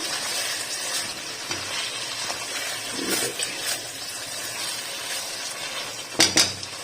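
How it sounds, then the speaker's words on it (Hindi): Chicken being stir-fried (bhuna) in a hot pan, a steady sizzle with occasional scrapes and clinks of a spoon against the pan, the last near the end sharp and close. "अब हम इसको अच्छे से इसी तरह भून लेंगे।"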